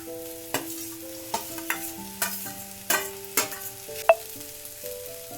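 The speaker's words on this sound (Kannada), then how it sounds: "ನಾವು ಹುರಿದಿಟ್ಕೊಂಡಿರ್ತಕ್ಕಂಥ ಗೋರೆಕಾಯಿ ಚೌಳಿಕಾಯಿನ ಹಾಕ್ಕೊಳ್ತಾ ಇದ್ದೀನಿ" Roasted cluster beans and cowpea pods go into a pan and are stirred, giving a run of scraping spoon strokes and soft clatter over a light sizzle, close by, with background music and no talk.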